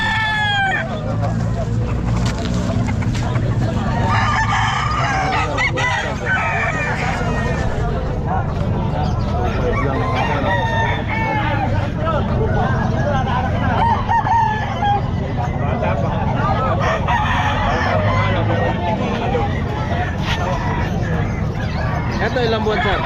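Young roosters (stags) crow repeatedly at a busy pet market in Calumpit, loud and overlapping, with clucking fowl and people talking throughout.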